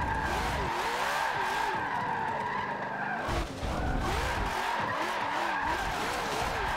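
A car drifts sideways with the handbrake pulled and no throttle in Forza Motorsport 7 on the Nürburgring Nordschleife, producing a loud, continuous tire squeal with a wavering pitch and one brief dip midway.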